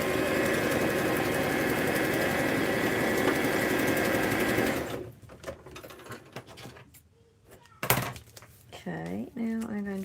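A sewing machine stitches the spine of a handmade junk journal, running in a loud, steady whir for about five seconds before stopping. Scattered handling noises and speech follow.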